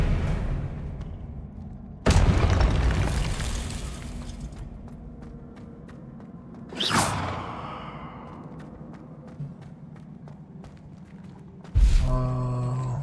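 Spell blasts in the video game Hogwarts Legacy burst out as sharp explosive booms, with three loud hits and decaying rumbling tails between them, followed by whooshing magical effects.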